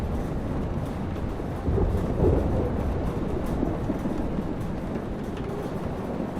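Thunderstorm in Life Is Strange: a dense, steady roar of wind and rain with a low rumble of thunder swelling briefly near the middle, heard without any voices.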